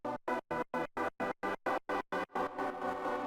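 Soft horn chopped by an exaggerated Gross Beat 1-2 gate into about ten evenly spaced, stuttering bursts with silent gaps, then settling into a continuous sustained tone at the end.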